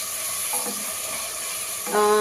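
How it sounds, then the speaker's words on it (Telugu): Cashew nuts frying in hot oil on a stove for egg biryani, a steady close sizzle with faint stirring, swelling slightly louder at the end. "జీడిపప్పు ఇవి కూడా వేసి మనము ఇలాగనే ఫ్రై చేసుకున్నాం"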